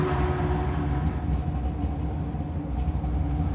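A vehicle engine idles steadily at close range, its low exhaust rumble holding continuously with a slight shift in tone as the ignition cuts off.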